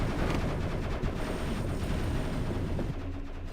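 Ship turret firing in the game Defect, a dense run of booming, gunfire-like blasts rumbling continuously, with a slight drop in intensity near the end.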